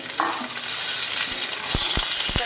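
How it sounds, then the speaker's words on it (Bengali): Chicken fries with onions in a hot pan, a dense close sizzle running throughout, with a cluster of sharp spatula knocks and scrapes near the end. "চিকেনগুলো একটু পেঁয়াজে নেড়ে নিলে খেতে ভালো লাগে।"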